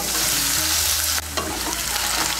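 Thinly cut potatoes frying in oil for a vegetarian potato and brinjal curry, a loud, dense sizzle throughout with a few stirring scrapes close by.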